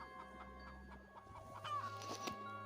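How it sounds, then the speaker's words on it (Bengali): A large black rooster clucks in a short run of soft, closely spaced calls, fairly faint and alone. "তো সেখানে একটি বিশাল বড় কালো রঙের মোরগ।"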